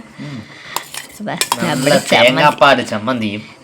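Coconut chutney being spooned from one vessel into a bowl, with a run of close metallic clinks and scrapes of cutlery against dishes, fairly loud and busy, with no talking.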